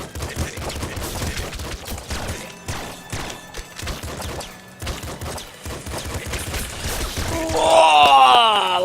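Rapid gunfire and bullet sounds from the top-down shooter video game Nuclear Throne, a dense, continuous clatter of shots and impacts with electronic effects rising toward the end, loud throughout with no speech.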